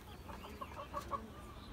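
Fayoumi rooster clucking, a short run of four or five faint clucks in quick succession over a quiet farm background.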